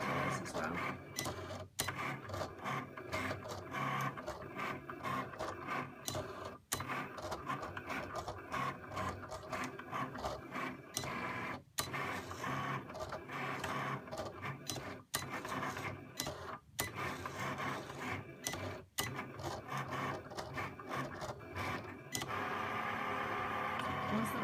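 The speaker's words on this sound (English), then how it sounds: "what it should be doing now first of all is using the pen for the writing that goes on the card" A Cricut Explore cutting machine drives its pen across a card to write, a steady mechanical whirring and clicking with printer-like carriage motion running throughout, continuous and fairly close, with no speech over it.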